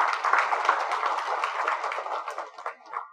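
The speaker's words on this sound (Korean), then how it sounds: "박수로 환영해 주십시오." Steady, dense audience applause at a transitional justice conference welcomes a speaker, holding fairly loud and even before thinning slightly near the end.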